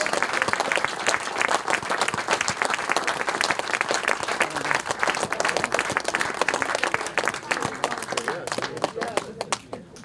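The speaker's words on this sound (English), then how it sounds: "please applaud your British 500cc solo champion" A crowd at the British 500cc solo championship presentations on the Isle of Wight applauds the champion with steady, dense clapping that holds at full strength throughout and thins only slightly at the end.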